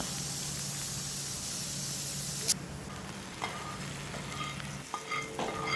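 Tadka spices frying in hot oil for Nellore-style pappu pulusu: a steady broadband sizzle that cuts off sharply partway through, leaving a quieter background with a few clinks and light knocks.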